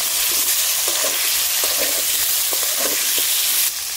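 Green chillies and onions frying in hot oil for a thin magur fish curry, a loud continuous hissing sizzle with soft stirring, cutting off abruptly near the end, no talk.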